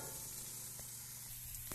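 Cabbage wedges sizzle over an open fire as they roast, a steady near crackle with one or two light knocks, alone without talk.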